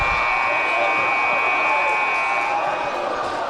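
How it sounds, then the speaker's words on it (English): Basketball crowd at an IVP Games men's match between ITE and SUSS roars right after a game-tying shot, a steady, loud wall of cheering and shouting that holds for the whole stretch, with a sustained high whistle-like tone running through it. "The crowd goes wild"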